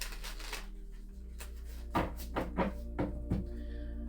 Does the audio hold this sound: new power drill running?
no